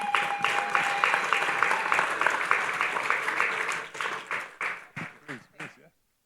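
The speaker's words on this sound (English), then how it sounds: "big round of applause again for the man behind the woman" An audience applauds at the First Caribbean Global Awards 2023, a full, steady wave of clapping that thins into a few scattered claps before stopping.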